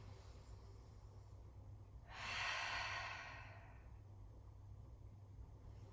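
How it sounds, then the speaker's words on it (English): A single slow, steady breath is drawn in during a yoga flow, soft and close, rising for about a second before easing away into a quiet room. "Closing the eyes and re-find that steady, equal breath"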